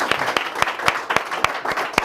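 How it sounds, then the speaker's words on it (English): An audience applauds a guest speaker at an in-conversation event, with a background wash of clapping punctuated by sharp, evenly spaced loud claps, roughly four per second, close and prominent. "So round of applause for Danny."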